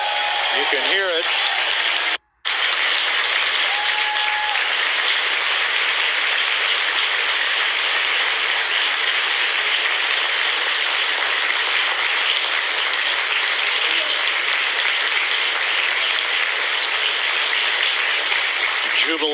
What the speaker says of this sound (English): Jubilation here in the flight control room.